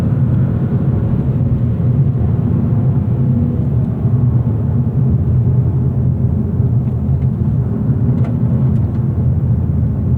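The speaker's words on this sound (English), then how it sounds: "Now that we're going uphill, the engine is definitely feeling a bit underpowered now." A 2025 Mazda3 hatchback, front-wheel drive with a manual gearbox, climbs uphill with its engine laboring in a steady, loud low rumble that holds for the whole stretch with no talk over it.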